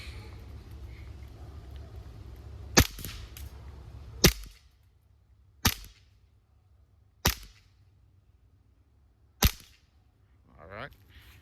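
A Barra 009 full-auto CO2 BB gun pistol fires five sharp, isolated pops spaced a second or two apart, close and loud over faint background hum, followed by a brief voice.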